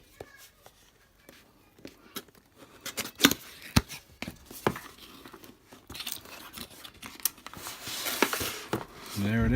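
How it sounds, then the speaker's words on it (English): Cardboard fish finder packaging box being cut open with scissors or a blade, with scattered crinkling, tearing and handling clicks up close, a few sharper snips, and quiet background movement. "cut it open."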